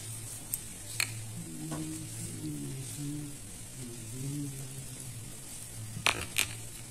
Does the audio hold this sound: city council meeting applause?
no